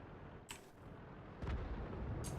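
Artillery fire in the tank video game World of Tanks, heard as a couple of sharp, booming shots over a constant low rumble of engine and battlefield noise, fairly loud.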